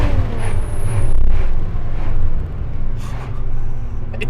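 A 2021 Nissan GT-R NISMO, the final R35, rumbles loudly up close, its engine rising and falling in surges with a brief whine and hiss.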